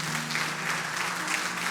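A church congregation applauds during a sermon, a dense, steady wash of clapping that fills the whole stretch at a moderate level with no pauses.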